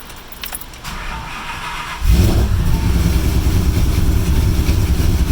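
Supercharged 2013 Shelby GT500 on a chassis dyno, its engine surging abruptly into a loud, sustained full-throttle pull after a couple of seconds of quieter idle with a light metallic jangle.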